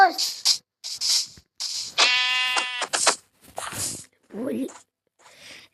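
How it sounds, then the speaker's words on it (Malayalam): A sheep in the video game Minecraft gives one clear wavering bleat partway through, set among short bursts of a person talking. "എവിടെയെങ്കിലും ഒരു ആട്."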